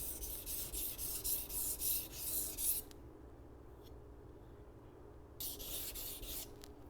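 Steel knife edge rubbed back and forth on a 400 grit waterstone, a loud, close gritty scraping that stops for a few seconds and then resumes.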